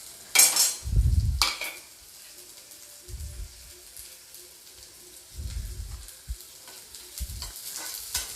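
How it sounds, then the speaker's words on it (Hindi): Onion, ginger and garlic fry in a pan in an Indian home kitchen, with a soft sizzle underneath and several bursts of scraping and stirring from a spoon against the pan. The sound is moderately quiet and close, with no talking. "अब मैं इन सभी चीज़ों को भी लगभग आधा मिनट तक भूनूंगी।"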